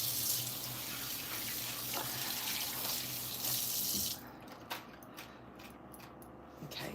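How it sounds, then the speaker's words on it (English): A kitchen tap runs strongly while hands are washed under it for about four seconds, then the water stops, leaving faint drips and small handling sounds. "I feel like I have to wash my hands, even though I did wash them already."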